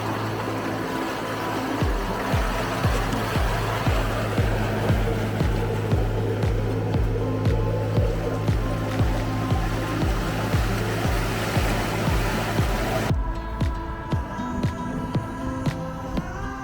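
Large ocean waves, around three metres, roll through a lagoon entrance while a boat engine hums steadily underneath. The wash is loud and continuous, with rhythmic slaps against the hull that cut off sharply near the end.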